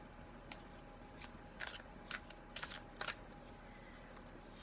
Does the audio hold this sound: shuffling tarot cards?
yes